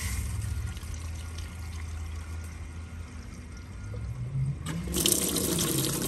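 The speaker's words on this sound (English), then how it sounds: "So let's put some water through it and see what we find." Water runs steadily through a reverse-osmosis pre-filter, a continuous close pouring rush that swells louder and brighter toward the end as the flow picks up.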